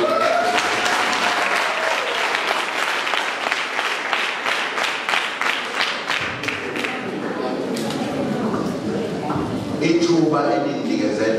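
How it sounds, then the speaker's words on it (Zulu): Audience applause at a community gathering, loud and close with rapid, distinct claps that build, ease around the middle, then swell again, while a voice speaks over the latter part. "Shayini ihlombe ngathi ngiphendule."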